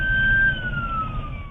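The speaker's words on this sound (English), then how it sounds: "with sirens blaring," A police car siren wails steadily as the vehicle races to a 911 call in Shreveport, loud and close, with a long gliding tone over low road rumble and no voices.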